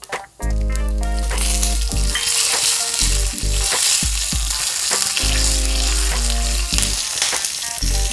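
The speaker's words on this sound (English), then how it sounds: "going to add some curry leaves" Curry leaves sizzle loudly in hot oil as they fry for a South Indian snack, a dense continuous crackle with sharp pops and bursts of spitting throughout, close and alone with no voices.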